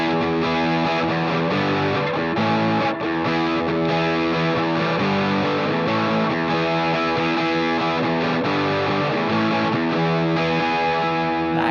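A heavily distorted electric guitar riff from the post-chorus of a song plays loud and continuous with a full band, driving chords sustained throughout without any voices.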